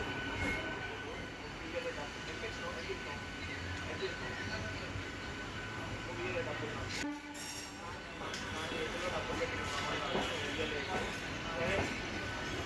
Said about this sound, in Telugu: మన ట్రైన్ అయితే స్టార్ట్ అయింది